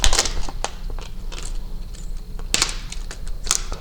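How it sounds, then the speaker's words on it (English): Window tint film peeled off a third brake light, giving a run of close, sharp crackling and ticking snaps in uneven bursts over a low background hum, with no talking. "go ahead and peel the tint off at the cut"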